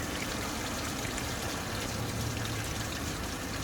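Water runs steadily from a hose during a coolant flush on a 2005 Toyota Camry, a continuous close rushing and trickling with no pauses or voices.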